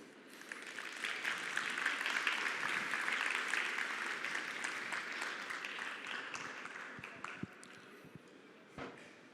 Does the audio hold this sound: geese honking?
no